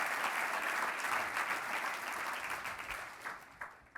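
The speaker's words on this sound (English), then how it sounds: "Please give yourself a round of applause." Audience applause fills a conference keynote luncheon, a dense, steady round of clapping that thins and tapers toward the end.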